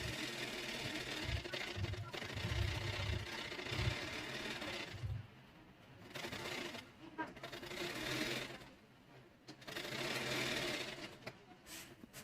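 A sewing machine stitching the neckband of a blouse, running in bursts of fast rhythmic whirring with brief pauses between runs, close and steady.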